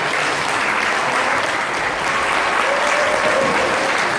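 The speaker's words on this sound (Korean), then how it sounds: "큰 박수로" A concert audience applauds steadily as a composer is introduced at a small music gathering, a dense, even wash of many hands clapping that holds at full strength throughout.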